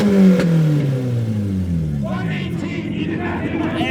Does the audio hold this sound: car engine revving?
yes